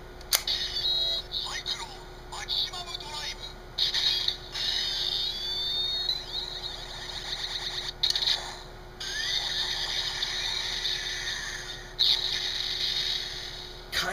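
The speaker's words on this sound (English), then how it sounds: "Kind of like a wind sound effect." A Kamen Rider W DX W Driver toy belt plays electronic effects, including a whooshing wind sound, as bursts of tones and mechanical clicks in short separate bursts.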